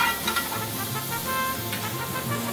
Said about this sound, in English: So we just go ahead and put it on the sizzling platter.